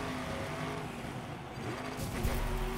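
Several BMW race cars run on a gravel track in the racing game Gravel, their engines droning steadily at close range, with a louder surge of revving near the end.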